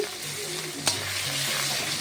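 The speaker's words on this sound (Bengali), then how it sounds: "এবার আমি চিংড়ি মাছটা ভেজে নিয়ে" Prawns frying in hot oil in a wok give a steady close sizzle, broken by one sharp clack of a utensil partway through, with no voices.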